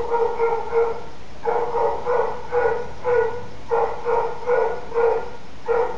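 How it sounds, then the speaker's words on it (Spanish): Several dogs bark in repeated bursts of three to five sharp yelps, with a brief pause between volleys, fairly close and loud in a residential neighborhood, with no talking. "Pinches perros."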